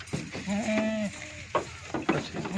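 Goats bleating close by during cargo loading at a livestock cargo yard in Pindi, a few short harmonic calls spread over a few seconds with handling noise between them.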